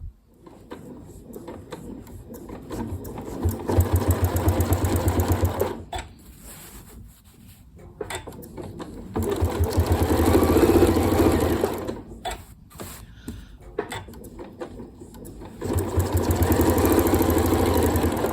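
A Janome Horizon Memory Craft 9480 QC sewing machine stitching during ruler quilting, a loud steady mechanical whir in bursts that stop and restart, close by with brief quiet pauses between runs.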